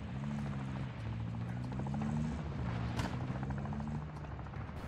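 A video game helicopter in Warzone II DMZ drones continuously with a low throbbing rotor hum and steady engine whine, close and loud for the whole stretch.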